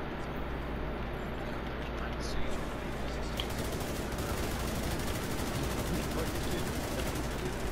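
Rapid, dense gunfire from a PvP fight in a video game's Occupied Dark Zone, a steady, loud wash of overlapping shots and bursts running the whole time, with a voice faintly audible underneath.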